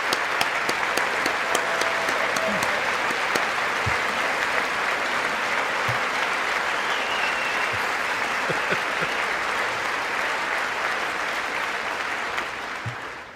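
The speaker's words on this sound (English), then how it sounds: "She's clapping for that." Members of Congress applaud during a State of the Union address, sustained loud clapping from a large chamber crowd that stays even throughout, with scattered louder claps and faint shouts inside the roar before it starts to fade at the very end.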